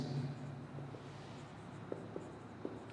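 Chalk or marker scratching on a board during a physics lesson on heat and adiabatic processes, faint and soft with a few light taps in a quiet room.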